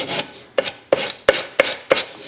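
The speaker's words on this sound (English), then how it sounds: "if you just put a little sandpaper on it," Sandpaper rubbed on a wooden door hinge edge, heard as about six short, sharp rasping strokes in a steady rhythm, close and alone.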